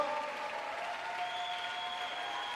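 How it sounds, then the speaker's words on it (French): Spectators at a squash open in Nantes applaud the players, a steady, fairly distant wash of clapping with faint crowd murmur and no voices over it. "vous pouvez les applaudir encore et encore et encore"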